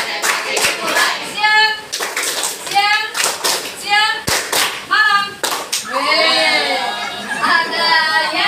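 Children's voices chant in rhythm while hands clap sharply at irregular intervals, with the claps mixed under the lively group voices.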